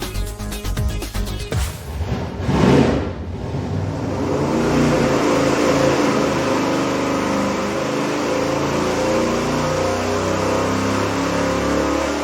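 A 440 V8 on an engine dyno with 1 3/4 inch long tube headers revs up hard, then holds a loud, steady, sustained roar near the microphone for most of the run.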